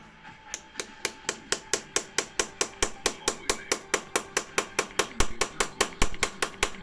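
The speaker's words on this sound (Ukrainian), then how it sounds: "Поправочку, молоточок." Rapid, evenly spaced metallic taps of a small hammer pressing a valve stem seal into a VAZ 2112 8-valve engine, around two dozen strikes in a steady rhythm, close and crisp.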